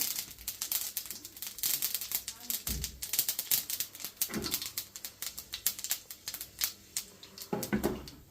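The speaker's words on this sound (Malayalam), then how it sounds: "കടുക് പൊട്ടി വരുമ്പോഴത്തേനും" Mustard seeds pop in hot sunflower oil with a dense run of quick, irregular crackles and snaps, close and lively, while a voice speaks faintly at moments.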